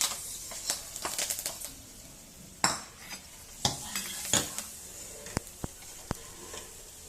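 Curry leaves go into a hot pan on a switched-off stove, bringing a brief sizzle, then stirring scrapes and clinks of a metal spoon against the pan, followed by a few sharp isolated taps, close and moderately quiet.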